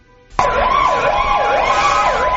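An ambulance siren wails loudly along a Cairo street, starting abruptly and sweeping up and down in a steady, repeating cycle with no voices.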